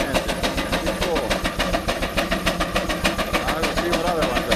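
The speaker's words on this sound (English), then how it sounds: "Driving a big belt on there. 80 horsepower steam engine." An 80 horsepower steam engine at a tractor show drives a big belt, giving a loud, continuous, rapid rhythmic chuffing and mechanical clatter that fills the whole stretch.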